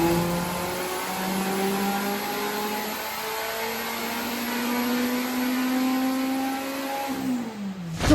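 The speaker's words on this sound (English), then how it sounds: "It's idling very high, so obviously they've just checked for vac leaks." A Renault 5 with a tuned, roughly 300-horsepower engine idles high and steady with a droning, whiny note that creeps slightly upward, then dips near the end, recorded close with no talking.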